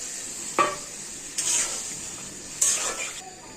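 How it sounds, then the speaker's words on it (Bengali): Spice paste frying in a pan with a splash of water, a hissing sizzle with three distinct stirring scrapes and clinks of a utensil against the pot, close by. "মশলাটা কষানোর জন্য হালকা করে একটু পানি দিয়ে দেবো"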